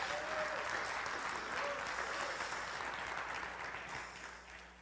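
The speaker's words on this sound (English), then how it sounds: "Give the Lord a hand clap." A church congregation claps together in a dense, steady burst of applause that gradually fades out.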